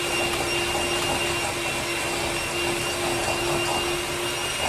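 An electric mixer creams butter for a cake batter, giving a loud, steady motor whine with a constant hum that runs without a break and no voices.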